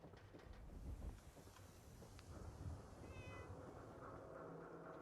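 A cat in the Fallout 4 video game meows a few times at moderate distance over a windy outdoor ambience, with no talking.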